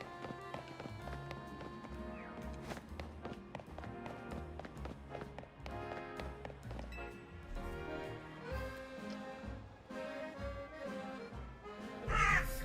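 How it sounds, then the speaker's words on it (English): Crows caw outside an open window in the Pokémon Legends: Z-A video game, scattered calls set against steady in-game music with no talking. "I've just heard multiple times crows outside"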